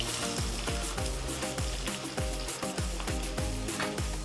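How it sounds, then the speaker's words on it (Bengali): Steady oil sizzle as onions fry with repeated stirring scrapes in a wok, the crackle continuous and close throughout, no voices. "এখন আমি কড়াইতে পেঁয়াজ দিয়ে দিলাম"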